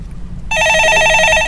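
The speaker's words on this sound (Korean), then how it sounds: "전화 받아보겠습니다." A telephone rings in a Korean stock-market call-in show studio, one sustained electronic bell trill starting abruptly and continuing loudly over a quiet background.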